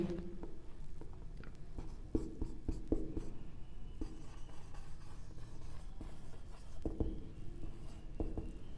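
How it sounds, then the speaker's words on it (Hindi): Pen strokes scratching across paper while writing out examples by hand, a steady close scratchy texture with small taps and pauses between words, no voice over it. "तो कुछ एग्जांपल्स लिख लेते हैं इनकी।"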